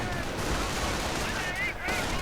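Dense battle gunfire and explosions from a Company of Heroes style 1v1 match, with an M8 armored car under heavy fire, rumble continuously under a caster's fast commentary.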